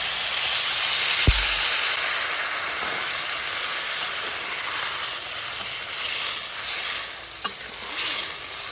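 Water poured into a pan of sautéed potato and papaya for a Bengali fish curry, a loud steady hiss and bubbling sizzle with a sharp clack near the start and a faint tap later.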